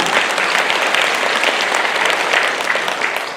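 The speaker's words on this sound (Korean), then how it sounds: "박수!" Audience clapping during a Catholic parish small-community volunteer training session, a dense burst of applause from a room full of people that fades out at the end.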